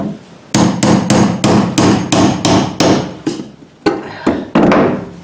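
Someone hammers on the corroded fuel pump of a 2002 GMC Sierra, giving about a dozen loud, close metallic thuds in a steady, fairly quick rhythm with a brief pause partway through, and no talking.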